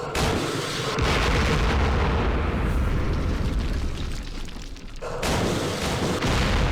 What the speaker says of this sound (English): Rockets.